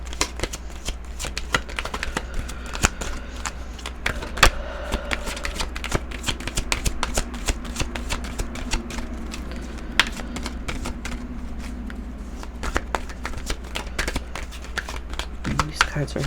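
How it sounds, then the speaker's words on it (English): Playing cards being shuffled in quick riffling bursts, close up, with a low steady hum underneath and occasional sharp flicks. "These cards are hard to shuffle."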